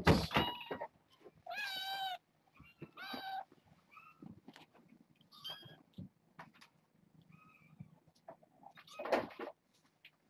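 Several high, wavering kitten meows come in short bursts with pauses, close by, mixed with faint rustling and small background noises.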